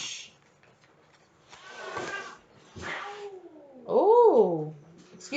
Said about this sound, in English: My cats are trying to fight.